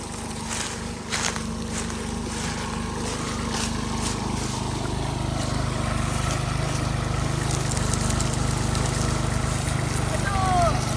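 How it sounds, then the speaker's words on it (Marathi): A tractor hauling sugarcane drones steadily and grows slightly louder, a low continuous rumble close by with faint voices in the background. "सोनालीने ट्रॅक्टर चाललेलं आहे उसाचं"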